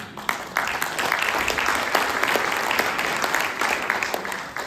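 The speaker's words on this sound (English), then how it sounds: "a round of applause for having our event here" An audience at a San Francisco District 2 Board of Supervisors forum applauds steadily, many hands clapping in a dense, bright patter that holds at an even level throughout.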